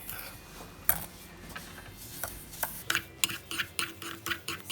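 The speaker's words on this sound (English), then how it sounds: "I'm gonna mix it" A spoon stirs lavender-coloured sugar scrub in a bowl, giving sparse faint scrapes and clinks at first, then quicker, louder rhythmic scraping toward the end.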